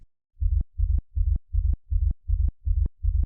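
Gated kick drum with a wobbling bass-note tail, made with a compressor, repeats eight times in a steady rhythm. Each hit is a short, loud, low thump with a boomy tail, and no one talks over it.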